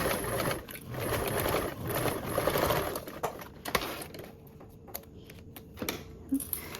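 A sewing machine runs a straight seam with a 1/8 inch allowance on a compact project, a loud, fast, steady mechanical whir for about three seconds, then slowing into separate clicks and short bursts before stopping.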